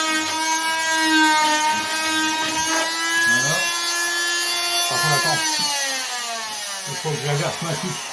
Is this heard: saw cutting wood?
yes